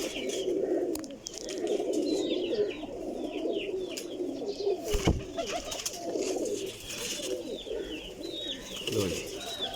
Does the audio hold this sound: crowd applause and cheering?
no